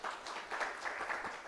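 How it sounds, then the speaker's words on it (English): Audience applause at a project closure event: a dense, steady patter of many hands clapping, moderately loud and continuous, with no break across its short span. "So we can clap for that, I think."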